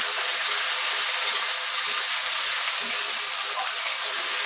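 Ginger-onion paste frying in a pan for Bengali-style chicken kasha, a steady, continuous bright sizzle and hiss throughout, fairly close and even, without talk.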